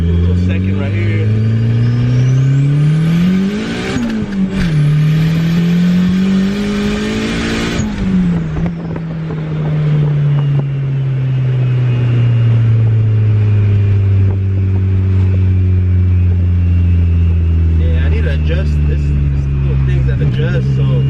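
A turbocharged Honda Integra with a B20V engine and roughly 270 wheel horsepower revs hard through a second-gear pull on a wet street, its loud, rising engine note dipping at shifts amid turbo whoosh and cabin rumble.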